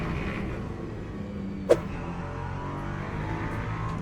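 An LMP3 prototype race car in the Le Mans Ultimate sim racing game runs with a steady, even engine drone throughout, broken once by a single sharp click partway through.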